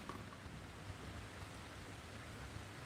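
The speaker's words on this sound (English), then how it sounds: "it's raining now" Steady rain falls outdoors in a soft, even hiss with a low rumble beneath, continuous and fairly quiet, with no voices.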